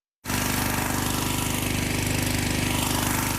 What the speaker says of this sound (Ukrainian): Це Наталя, як і більшість українців, дівчина до шуму генератора звикла вже давно.